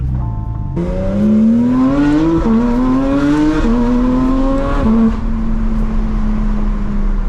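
A straight-piped Porsche 992 GT3 RS on the road, its loud engine rising in pitch through several sharp upshifts, each gear climbing higher before dropping back, then settling into a steady drone.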